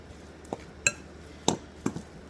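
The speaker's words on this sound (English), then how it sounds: "I'm going to start kind of mixing this up a little bit." Ingredients with garlic mixed in a bowl, giving four light, spaced clinks of a utensil against the bowl over quiet background noise.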